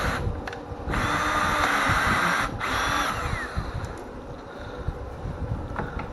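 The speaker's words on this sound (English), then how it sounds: "If I had this up in drill mode, I could just run the screw right in." Power drill driving a screw into wood in a diesel technology shop: a sustained whirring motor with short pauses and restarts, close and loud over broadband noise, with no speech.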